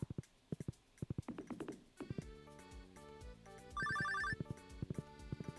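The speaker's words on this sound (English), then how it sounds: "The phone's ringing." A phone ringing in the Stardew Valley video game, a bright electronic ringtone of repeated chimes heard over plucky, bouncy game music, with a dense burst of ringing near the end.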